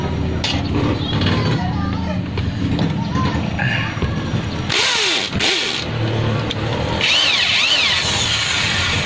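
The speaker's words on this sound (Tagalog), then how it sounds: "Ito na yung aking handrill." A power drill whirs while sanding parts during an electric fan repair, speeding up and slowing down in bursts, its pitch rising and falling between short pauses, loud and close.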